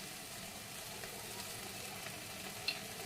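Steady, soft sizzling of spices frying in hot oil for chicken curry, a continuous crackling hiss with no talking.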